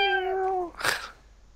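A pet cat close by lets out a single drawn-out, wavering meow, then a brief breathy rasp, with quiet room tone afterwards.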